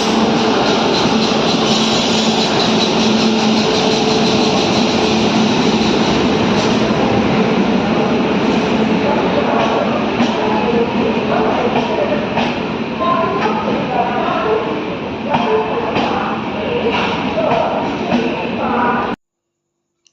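Inside the Rockfort Express train, the carriage rumbles and rattles continuously with a steady rolling roar and occasional clatter, a faint voice heard under the noise, ending abruptly in silence.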